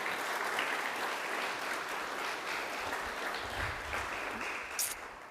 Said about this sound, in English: Please join me again in a round of applause.